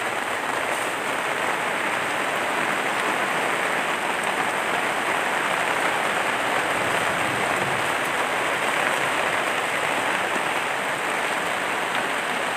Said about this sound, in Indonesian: Wis grimis lho.